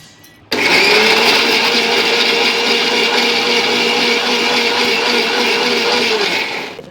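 A kitchen mixer grinder whirs into action on coconut, ginger and green chilli for a paste, starting abruptly and running as a loud, steady motor drone for about six seconds before easing off.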